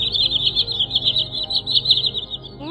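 White-bellied sandpiper calling in a high, rapid, trilling stream that runs almost without a break, close and clear over a low background rumble.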